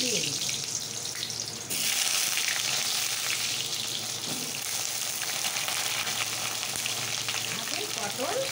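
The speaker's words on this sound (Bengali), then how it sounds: "তেলটা অনেক গরম হয়ে গেছে, যে পটলগুলো দিয়ে দিই।" Pointed gourd pieces dropped into very hot oil, bursting into a loud, dense sizzle that continues steadily with faint stirring. A voice speaks briefly beneath it.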